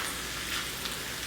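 Eggplant caponata sizzling and being stirred in a frying pan, a steady bright hiss of frying with faint scraping of the spoon, close and continuous, with no voices.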